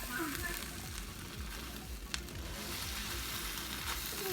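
Food sizzles steadily in a non-stick pan in a home kitchen, with a dense, close crackle throughout and a brief clink of a utensil partway through.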